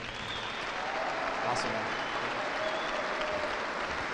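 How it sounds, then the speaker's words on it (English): Audience applause at an Air Force commanders call honoring an award recipient, steady clapping throughout with a brief spoken word over it. "Round of applause."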